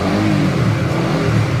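A Honda Winner X motorcycle engine revs steadily at about 4,000 RPM, a loud, continuous mid-pitched drone held close and alone.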